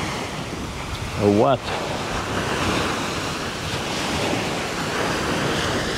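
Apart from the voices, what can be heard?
choppy water waves on a windy day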